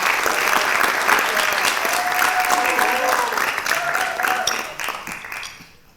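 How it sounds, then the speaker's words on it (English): Loud, sustained applause from a crowd at a Web 3.0 summit opening ceremony in Dubai, dense clapping with a few voices mixed in, tapering off at the end. "please give a big round of applause"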